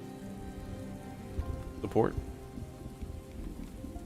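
Rain falling in the medieval city-building game Farthest Frontier, a steady soft patter across the whole stretch, with a brief spoken word briefly rising above it midway.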